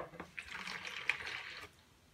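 Water poured from a glass into a bowl for bread dough with yeast, a soft continuous splashing trickle lasting about a second and a half, close and fairly quiet, with no talking.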